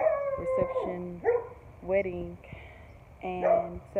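Dog barks and howls repeatedly in long, drawn-out yowling calls close by, mixed with a person talking over them.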